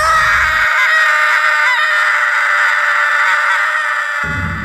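A woman's loud, sustained horror-style scream rings out steadily for several seconds, shrill and close, with a low rumble underneath at the start and end.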